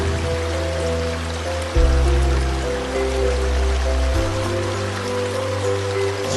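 River current as a theatre sound effect for a stage play of Keong Mas, a steady broadband rushing wash under sustained low musical tones, continuous and fairly loud.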